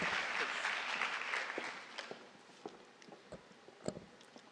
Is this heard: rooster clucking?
no